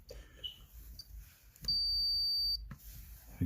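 A smoke alarm gives a long, steady high-pitched beep lasting about a second, with quiet room noise and faint handling sounds before and after.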